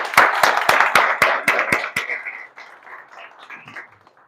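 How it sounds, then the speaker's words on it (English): A small audience gives a quick round of applause, about eight crisp, evenly spaced claps close by, trailing off into a soft murmur after two seconds. "Let's do a quick round of applause"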